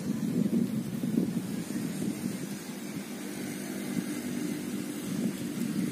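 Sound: strong wind at Putukrejo reservoir, Nganjuk

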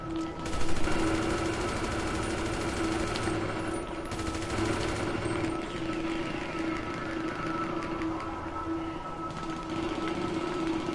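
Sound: shotgun fire in video game GTA V

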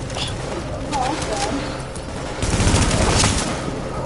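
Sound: gunfire in the video game The Division

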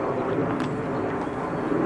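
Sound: airplane flying over woods

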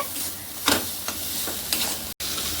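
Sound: spice paste with green chili being stirred in a pan

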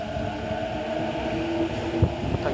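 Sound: commuter train departing station

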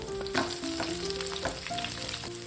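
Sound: green chillies and curry leaves frying in pan

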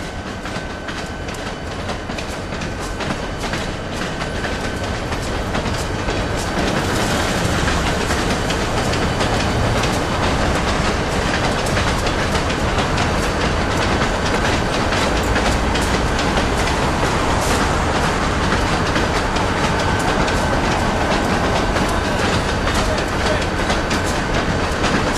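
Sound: train passing on railroad tracks

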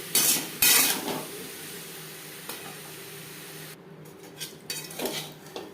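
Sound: potatoes frying with salt and turmeric, stirred in pan

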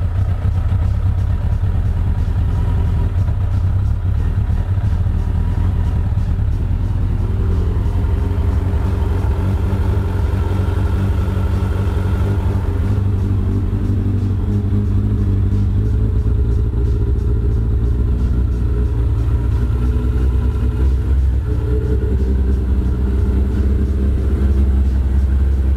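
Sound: Suzuki RF900R motorcycle engine running

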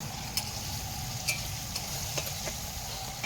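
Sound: beans frying on wood stove

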